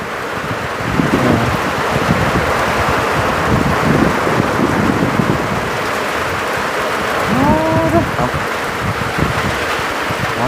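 Steady rain and gusting wind outdoors make a constant broad hiss, with a voice speaking faintly underneath at moments.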